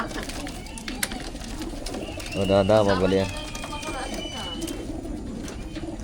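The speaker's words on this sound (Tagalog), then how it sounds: "So, ito yung mga ibon natin." Racing pigeons coo in a short, close burst of soft rhythmic calls, with someone talking quietly around them in an outdoor loft before a training toss.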